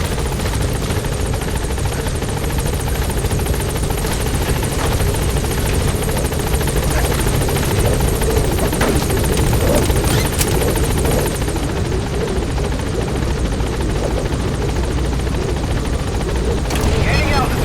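The Pequod helicopter in Metal Gear Solid 5 thumps with a loud, steady rotor whine and engine drone close by, running continuously for the whole stretch.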